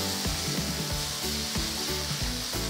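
Thinly sliced large onion frying in oil, a steady loud sizzle with rhythmic stirring strokes running throughout, close and alone without talk.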